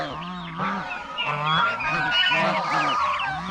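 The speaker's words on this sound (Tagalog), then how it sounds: "Alaga natin pabo, oh." Farm turkeys calling loudly in a dense, overlapping chorus of honking, gobbling cries, close and continuous throughout with no voices.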